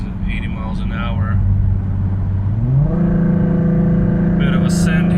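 A Mustang 3.7 V6 running a Borla ATAK exhaust with shorty headers, H-pipe, cat delete and resonators cruises at about 80 mph, its loud, steady droning note climbing in pitch partway through under a voice.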